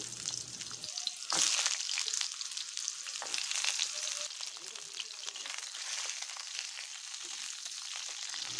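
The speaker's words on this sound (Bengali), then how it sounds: "এখন পটলগুলো ভেজে নিচ্ছি।" Pointed gourd (potol) frying in hot white oil gives a bright, crackling sizzle that bursts in loudly at the start and then settles into a steady, close spatter.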